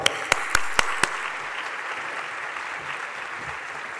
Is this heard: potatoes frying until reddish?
no